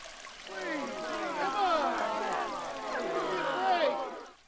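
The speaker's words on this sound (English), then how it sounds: "Let's expel some wastewater." Untreated wastewater pours out in a steady gurgling, trickling flow with bubbly swirls, moderately close and continuous, with no voices.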